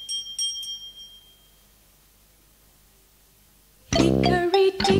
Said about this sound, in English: The clock struck one, the mouse ran down.